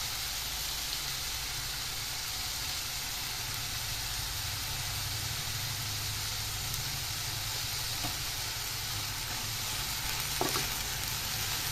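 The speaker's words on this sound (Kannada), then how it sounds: "ಈ ತರಕಾರಿಗೆ ಎಷ್ಟು ಬೇಕೋ ಅಷ್ಟು ಉಪ್ಪು ಹಾಕಿ ನಾನು ಇದನ್ನು ಬೇಯಿಸ್ತೀನಿ. ಸಿಮ್ಮಲ್ಲಿಟ್ಟು ಬೇಯಿಸ್ತೀನಿ ಸ್ವಲ್ಪ ಹೊತ್ತು." Salted vegetables for upma cooking in a pan over a low flame, giving a steady, even sizzling hiss that runs unbroken throughout with no voices over it.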